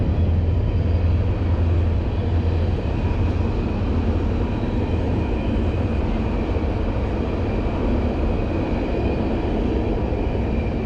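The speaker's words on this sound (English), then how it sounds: "Sorry about the train, it's going loud." A train rumbles past nearby, loud and continuous, with a heavy low roar and steady rolling noise throughout.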